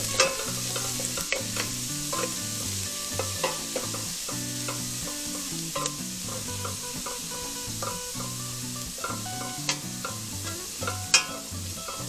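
Garlic frying in a pan of hot oil for fish escabeche, a dense steady sizzle with occasional utensil scrapes, close up, while background music plays and no one speaks.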